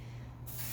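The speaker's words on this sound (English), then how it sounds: "Spray paint my skull heads or whatever for decoration" Black spray paint hisses from an aerosol can onto a skull head set inside a box, a sudden close burst of bright spray starting partway through after a quiet moment.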